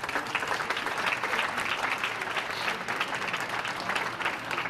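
Audience at a sports banquet applauds with dense, steady clapping that holds at an even level throughout, with no voices standing out.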